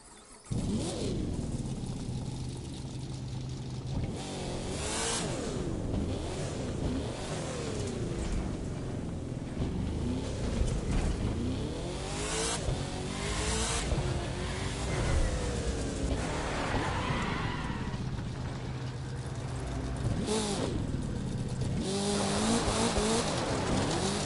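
A drag race car in The Crew 2 roars through repeated revving and accelerating runs, engine pitch sweeping up and down with tire squeal, loud and close throughout, with no talking.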